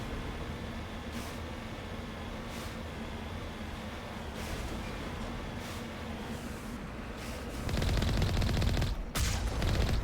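Mass Effect gunfire aimed at turrets: a sustained rattling burst of rapid shots that swells loud near the end, set over a steady low background drone.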